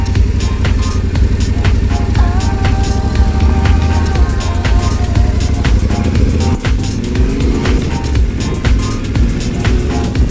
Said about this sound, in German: Wenn der Wagen hier durch ist